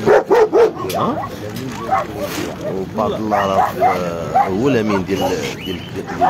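Dogs bark and yip in a busy weekend dog market at Lqriaa in Casablanca, Morocco, a few sharp barks up close at the start, then someone talks steadily over the crowd noise.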